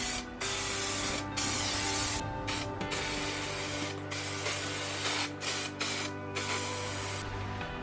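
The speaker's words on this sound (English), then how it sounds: "Next, we simply used an all-purpose spray-on adhesive." All-purpose spray-on adhesive is sprayed onto fiberglass insulation and van walls during a van conversion, giving fairly quiet hissing bursts that start and stop repeatedly, with faint mechanical clicks between sprays.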